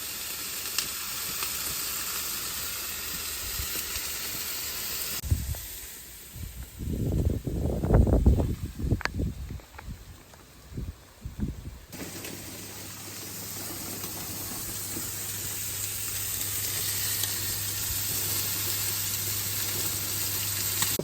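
Arrosticini, cut down to fit, sizzle and fry in a pot outdoors, a loud steady hiss with a burst of crackling spatter in the middle before the frying hiss returns, no talking.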